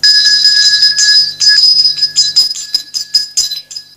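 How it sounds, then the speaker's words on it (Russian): A hand bell rings out at a school last bell ceremony, loud and close, first a sustained bright clang, then a series of quick rhythmic shakes that trail off over a few seconds. "где вот-вот зазвенит колокольчик"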